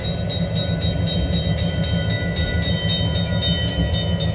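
A model train rolls past a railroad crossing with a steady, rhythmic clatter and a continuous loud hum, close and unbroken for a few seconds with no voices.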